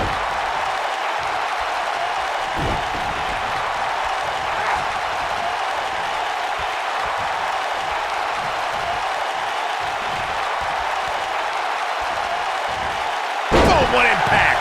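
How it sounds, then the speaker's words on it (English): Arena crowd noise from the WWE 2K19 wrestling video game during a women's team match, a steady roar of cheering filling the whole stretch with a couple of sharp slams or thuds, the loudest near the end. "the crowd is loving Sasha's act"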